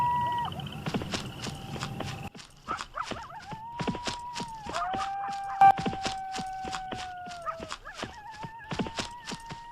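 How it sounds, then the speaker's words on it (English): Steady, rhythmic clip-clop of hooves trotting on a hard surface, fairly close and continuous, with a few faint tonal calls in the background. "I think there are 2 horses."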